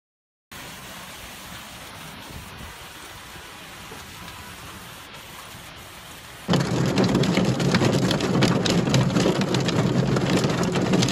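Heavy rain falls in Sicily as a steady, dense hiss that suddenly swells much louder and rougher partway through, with no voices.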